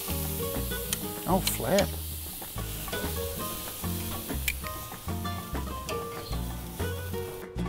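Carne asada sizzles steadily on an outdoor grill, a continuous frying hiss running under loud, rhythmic music throughout.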